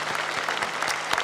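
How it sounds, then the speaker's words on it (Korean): A church congregation claps in thanks at a New Year's Eve service, a brief burst of dense, close applause. "우리 여기까지 우리의 걸음을 인도해 주신 하나님께 감사의 박수 드리겠습니다"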